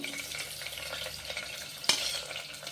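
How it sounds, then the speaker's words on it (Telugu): Whole garam masala and onions sizzle in hot oil inside a pressure cooker, a steady close frying hiss broken by light stirring scrapes and one sharp clink of a spoon, with no voices. "ఇప్పుడు కుక్కర్ పెట్టి ఆయిల్ వేసిన తర్వాత ఓల్ గరం మసాలా అన్నీ వేయాలి"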